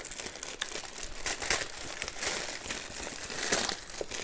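Paper packaging from a craft supply haul crinkles and rustles continuously while being unwrapped, close and fairly loud, with sharper crackles now and then and no talk.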